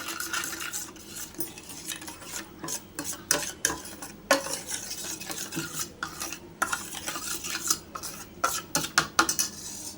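A utensil stirs spice paste into oil in a pan, scraping and knocking against the metal in irregular bursts with a faint sizzle underneath, close and alone.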